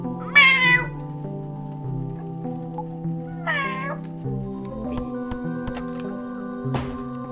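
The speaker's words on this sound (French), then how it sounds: "Il y a un chat!" A cat meows twice, a loud meow near the start and another a few seconds later, over sustained tonal music with scattered soft clicks and drips.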